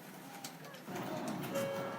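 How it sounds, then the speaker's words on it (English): A Sakura tram streetcar rolls through an older residential neighborhood in central Tokyo, its low rumble swelling midway and joined by a thin steady whine, with birds cooing faintly nearby. "That's the sound of the Sakura tram."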